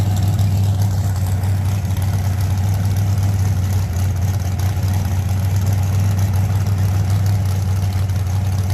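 Steady, loud low rumble of the drag racing car Rockstar's engine at a Street Outlaws outlaw drag racing event at a motorsports park, droning continuously without revs or talk.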